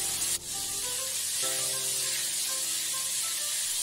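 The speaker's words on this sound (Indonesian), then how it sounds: "Lalu setelah minyak panas kita masukkan dan goreng ayamnya." Flour-coated chicken pieces frying in hot oil, a continuous bright sizzling hiss that jumps at the start as the chicken goes in, then settles into a steady crackle.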